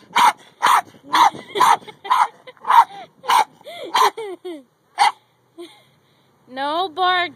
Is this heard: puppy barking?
yes